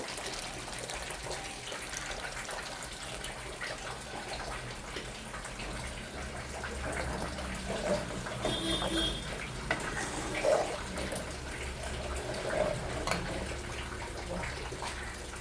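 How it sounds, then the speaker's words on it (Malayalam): Tamarind water poured into a curry pot on the stove: a faint, close trickle and splash of liquid growing slightly in the second half, with low background noise. "കുറച്ച് പുളിവെള്ളം ഒഴിക്കണം"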